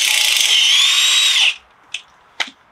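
Power tool undoing a bolt on a Ford Fiesta rear spring: a loud steady high whir for about a second and a half, stopping abruptly, followed by two short sharp metallic clicks.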